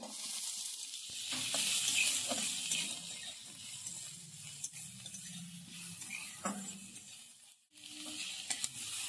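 Chopped green chili and onion hit oil with lightly fried ginger and garlic, producing a soft hissing sizzle with occasional stirring knocks and scrapes in the pan, fairly quiet and continuous.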